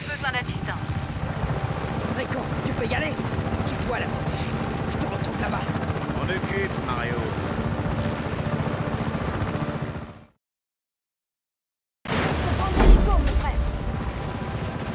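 Helicopter rotor and engine in the video game Just Cause 3, a steady loud broadband drone running throughout, briefly cut to silence near the end before resuming, with game voices talking over it.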